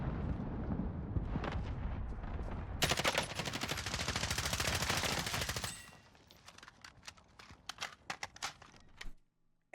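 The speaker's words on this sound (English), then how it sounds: "We have suppressed shots going off to the right-hand side. We got cluster strikes going on the right-hand side too." Suppressed gunfire and cluster strike explosions in the video game Warzone, with rapid bursts of shots, then a dense roaring barrage of impacts, followed by scattered sharp shots trailing off.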